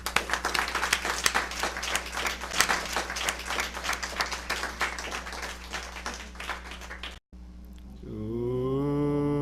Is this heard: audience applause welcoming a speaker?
yes